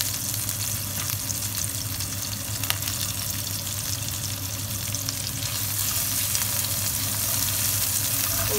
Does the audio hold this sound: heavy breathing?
no